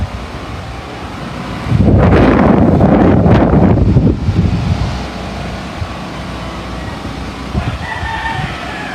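Strong wind with rain outdoors at a gamefowl farm in the Philippines: a loud gust buffets the microphone for a couple of seconds, then eases to a steady blow, with roosters crowing nearby.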